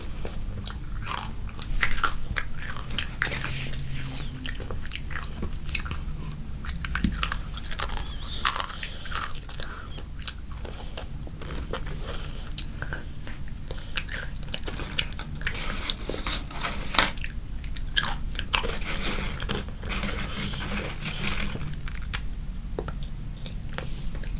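A child crunches Korean Honey Butter Chips close to the microphone, with steady crisp bites and chewing over a low background murmur and no clear talking.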